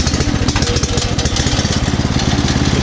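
A small tractor engine idles steadily in neutral, loud and close, with a fast even chugging putter that runs alone.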